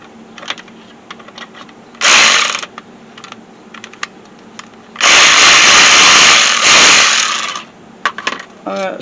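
Bursts of a power tool loosening the AC compressor bolts on a 2001 Lincoln Town Car, two short loud runs with a longer whir in between, plus small clicks and handling noises.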